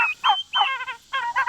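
Young blue slate heritage turkeys on a homestead gobble in three or four quick, bubbling bursts, close by and fairly loud, with short pauses between calls.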